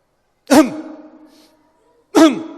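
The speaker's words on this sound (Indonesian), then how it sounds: "Gimana cara berdehem yang benar? Adalah dengan cara tarik nafas." Two sharp throat-clearing bursts about a second and a half apart, each a rough, voiced rasp with a trailing hum after the first.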